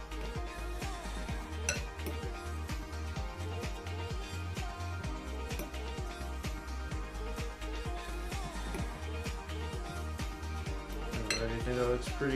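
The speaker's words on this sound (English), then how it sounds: "make sure that it gets all the butter coated on the mixture here that we've got going on." A spoon stirs a butter-coated mixture in a bowl, giving steady rhythmic scraping and clinking of metal against the dish, close and fairly quiet, with a brief louder clatter near the end.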